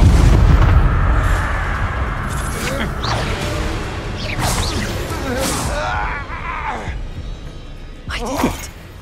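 A Confringo fire spell blast in the Hogwarts Legacy video game, heard as booming, whooshing bursts among layered game effects and a character's grunts and voice sounds, with a sharp swell near the end.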